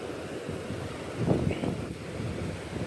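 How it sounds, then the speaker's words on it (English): Gusty wind buffets the microphone outdoors on public land during gold panning, a steady low rumble that swells briefly in the middle and continues throughout with no talk. "the wind's blowing"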